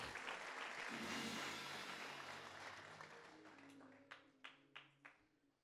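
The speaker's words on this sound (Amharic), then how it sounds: "አጨብጭቡ ለጌታ ክብር።" Congregation applauding at a church healing service, broad clapping that swells, fades over several seconds, then ends in a few sharp separate claps, with a low voice murmuring underneath.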